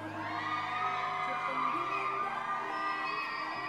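Beauty pageant fans at a Beauty Legend 2018 fashion show scream, whoop and cheer as a dense, sustained crowd, loud and continuous throughout.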